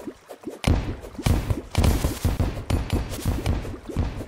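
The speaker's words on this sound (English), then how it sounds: "Oh, we blew up a minecart." Bombs blasting a minecart and tunnels in a video game, a string of sharp, punchy explosions in rapid irregular succession, loud and close with no talking.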